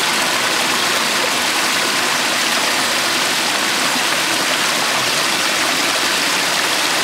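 Water rushing through a micro-hydro intake channel on an island energy system, a loud, steady broadband roar of flowing water heard close and unbroken throughout.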